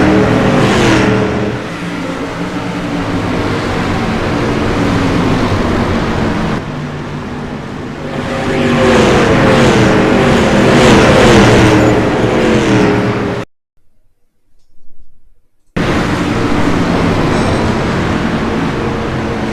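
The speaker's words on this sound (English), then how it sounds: "Look at Stephen Burrow driving." Street stock race cars roar around a dirt oval track, loud continuous engine noise with cars passing and revving, briefly cutting out to silence near the end before resuming.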